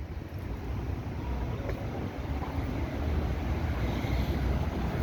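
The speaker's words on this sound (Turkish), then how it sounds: "Ama hava soğuk biraz yine esiyor abi." Steady wind rushes and rumbles across the microphone while riding a bicycle on a cold, breezy day, a continuous low roar that swells slightly in the second half, with no talking.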